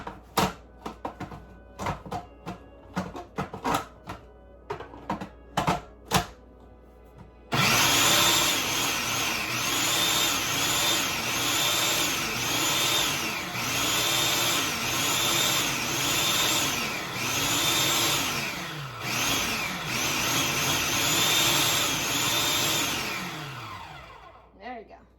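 Kitchen mixer whirring through eggs, pureed persimmon and butter for persimmon bread: after a few seconds of clatter and a voice, a loud steady motor drone runs for about fifteen seconds, then stops.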